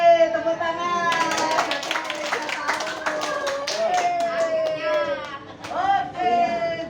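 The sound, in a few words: children clapping hands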